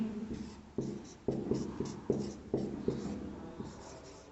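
Pen or chalk strokes on a board during a Sanskrit grammar lesson, sounding as a series of short, distinct scratches and taps in an uneven rhythm, close and moderately quiet, with no talking.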